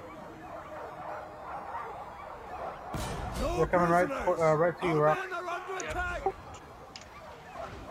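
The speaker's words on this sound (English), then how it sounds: "Yep, dogs are just unleashed." Dogs released in the battle game Total War: Arena bark and yip in a rapid cluster lasting a few seconds, over a steady battle din, with someone speaking over them.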